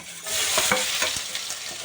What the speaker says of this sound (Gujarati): તો હવે આપણે ડુંગળી નાખી દઈશું અંદર.